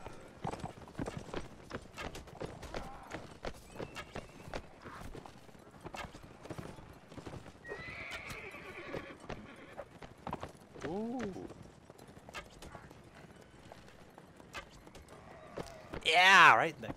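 Horse hooves clip-clopping in a video game, a steady rhythmic run of hoofbeats through most of the stretch, with someone talking over it and a louder burst near the end.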